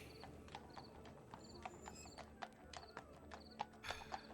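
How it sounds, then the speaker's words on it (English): Three horses are led out of a barn, their hooves clip-clopping in an irregular rhythm across the floor, close and fairly quiet, with small knocks and tack sounds between the steps. "She grabs the reins of the three horses. Come on. And leads them out of the barn."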